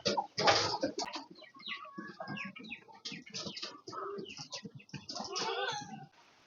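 Pigeons are fed close by, giving a busy mix of cooing, clucking-like calls and fluttering wings, with bursts of activity and short pauses throughout.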